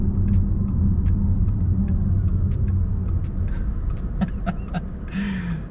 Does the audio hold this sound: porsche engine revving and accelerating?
yes